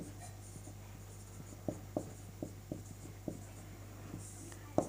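Writing on a board during a Sanskrit translation lesson: a handful of soft, evenly spaced taps and scratches over a low steady hum, faint and with no talking.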